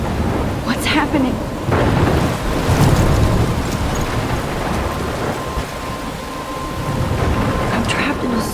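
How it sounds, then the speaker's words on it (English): Heavy rain pours and thunder rumbles through a storm in the video game Life Is Strange, a dense, steady downpour with deep rolling booms swelling throughout and a voice heard over it. "I'm trapped in a storm?"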